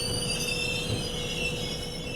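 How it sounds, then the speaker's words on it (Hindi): Chennai Duronto Express rolling along the tracks, a steady close rumble of wagons with high-pitched wheel squeal held throughout, continuous and fairly loud with no talk. "तो अपनी चेन्नई दुरंतो एक्सप्रेस बढ़ चुकी है यहाँ से सफ़र में आगे"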